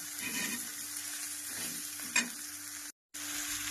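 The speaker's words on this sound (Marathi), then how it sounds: "मी तव्यावर चांगले परतून आहे" Bombil (dried Bombay duck) chutney being sautéed and stirred on a hot griddle, a steady broadband sizzle with scraping strokes of a spatula and one sharper clatter, with a brief dropout near the end and no talk.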